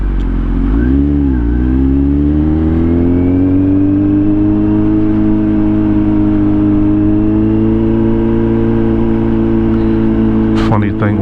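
A Kawasaki Z900 motorcycle rides through city streets in Washington DC, its engine a loud, steady, close drone that rises briefly early on, then holds an even cruising note, with a sharp burst near the end.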